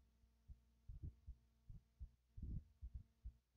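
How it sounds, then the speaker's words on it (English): Heartbeat in the video game Silence 2 thuds in low, muffled, irregular throbs, about a dozen beats over a faint hum with no voices. "I don't understand the whole thing about the heartbeat."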